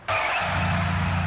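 Car in the Sam & Max video game starting off with a sudden loud burst of tire skidding over engine noise, sustained and close for about a second.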